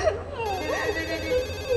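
A telephone rings with a warbling, bell-like electronic tone, close and fairly loud, heard alone for a brief moment.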